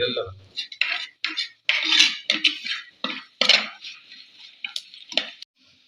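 A spoon scrapes and clinks against a metal pot in quick irregular strokes, stirring chili powder into a buttermilk curry, close and fairly loud, with short pauses between bursts.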